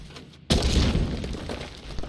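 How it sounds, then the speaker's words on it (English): A blasting device goes off in the Copperbell Mines dungeon of Final Fantasy XIV, a sudden loud booming blast after a brief quiet moment, followed by a rumbling, crackling decay with no voices. "use the blasting device over here"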